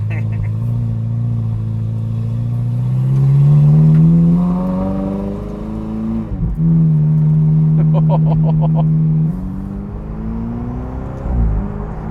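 Ferrari 488 twin-turbo engine fitted with a Kline Inconel exhaust revs up loud and close, the pitch climbing, dropping and climbing again with a brief blip near the end; turbo whoosh and a voice speaking over parts of it.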